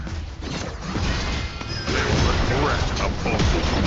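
A crashing, mechanical collapse as an enemy turret is destroyed in League of Legends: Wild Rift, loud and dense with clanking debris over continuous battle noise and an announcer voice.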